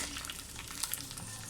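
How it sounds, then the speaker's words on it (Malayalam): Washed, drained rice tossed into hot ghee in a pan for Malabar ghee rice, giving a soft continuous sizzle with light scraping and stirring clicks, close and fairly quiet, no talk. "ഊറ്റിയെടുത്ത അരി ഞാൻ ഇതിലോട്ട് ഇട്ട് കൊടുക്കുന്നുണ്ട്"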